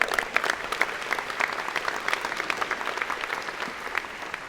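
A convocation audience at an engineering graduation ceremony claps for an award winner, a dense, even round of applause from a sizable crowd that holds steady throughout, with no voices rising above it.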